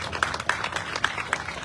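An audience at a groundbreaking ceremony for the Eastridge to BART Regional Connector claps steadily, with scattered sharper claps standing out from the faint, light applause.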